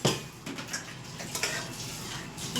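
In a home kitchen, a pressure cooker and a metal pot are handled, giving a string of close, sharp metallic clanks and knocks at irregular intervals, with no speech.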